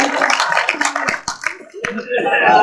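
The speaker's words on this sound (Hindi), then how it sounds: "तालियां बजनी चाहिए।" Live audience at a Hindi comedy and satire stage show bursts into clapping, a dense wash of applause with a few sharp individual claps over about three seconds, and a voice talks over part of it.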